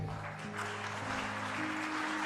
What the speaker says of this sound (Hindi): हरियाणा के मुख्यमंत्री नायब सिंह सैनी का तालियों से स्वागत कीजिए।